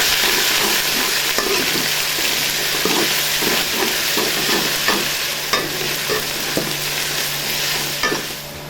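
Ginger, garlic and onions fry in a pan for Punjabi-style chana dal with bottle gourd, a steady close sizzle broken by repeated scraping stirs of a spoon against the pan, with no voices.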